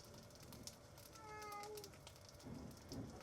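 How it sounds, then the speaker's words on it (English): A cat gives a single faint, short meow in a kitchen while crispy tofu steaks are being made, over soft sizzling and background clatter. "My cat is meowing."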